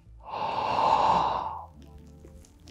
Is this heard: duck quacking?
no